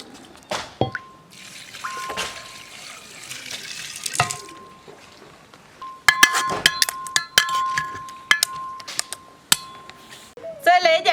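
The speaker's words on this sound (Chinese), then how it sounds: "搅均匀倒到坛子里。" Red cabbage pickling brine of chili, white vinegar, rock sugar, salt and cool boiled water is stirred, then poured into a crock: close, bright clinks and taps against glass and ceramic, light sloshing and pouring, with a sharp rattle near the end.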